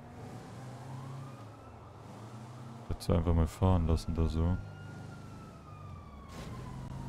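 Police car sirens wail in Grand Theft Auto V, a rising and falling electronic tone running through the clip beneath steady game traffic noise, with someone talking over the middle stretch.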